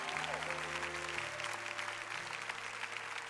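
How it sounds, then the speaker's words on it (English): A Baptist church congregation applauds in steady, sustained clapping that fills the sanctuary. Sustained organ or keyboard chords ring underneath, and a voice briefly speaks over the applause. "Come on, give him another applause."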